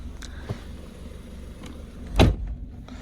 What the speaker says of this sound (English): It's just normal door closing.